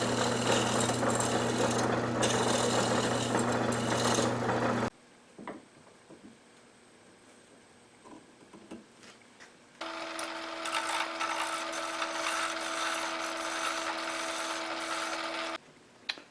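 Wood spinning on a lathe while its outside edge is trued round for an arrow shaft cutter, a steady whirring hum with cutting noise, stopping for a quiet gap with small knocks before the lathe runs again.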